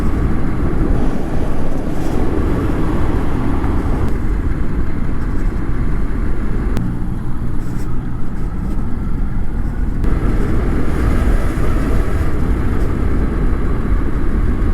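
A carbon fiber e-bike with a 1000 watt motor riding fast in sport mode, steady loud rush of wind and road roar throughout with no pauses.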